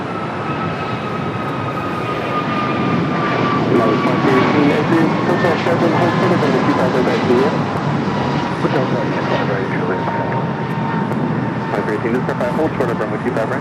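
A jet airliner rumbles at LAX on the runway, a loud broad roar with a whining engine tone that slowly falls in pitch, steady throughout while a voice talks over it.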